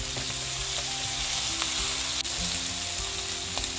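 Prawns, onion and garlic frying together in hot oil, a steady close crackling sizzle that runs throughout with a brief dip near the middle.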